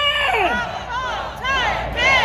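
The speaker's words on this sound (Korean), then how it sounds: "5천 함성 발사" Large rally crowd of thousands at an outdoor prayer and national assembly in Korea roars in loud rising shouts, several swelling waves of massed voices one after another.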